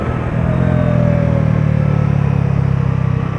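Bajaj Dominar 400 motorcycle engine as the rider rolls on the throttle, a steady close rumble with a slight rise and fall in tone, with no talk.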